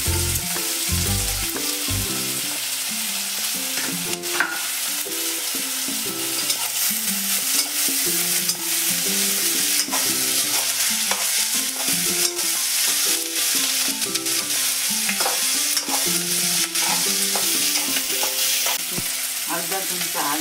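Onion and green chili frying with reddened garlic in hot oil, a steady loud sizzle throughout with constant clattering scrapes and taps of a spoon stirring against the pan.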